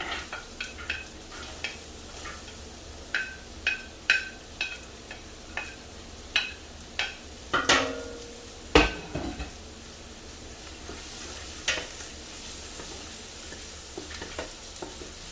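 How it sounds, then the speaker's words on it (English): Carrots and celery tumble into a hot pan of cooking onions for a Bolognese, followed by a soft steady sizzle and a series of rhythmic scrapes and clinks from the spoon stirring against the pan, close by with no talk. "Now we add our carrots and celery."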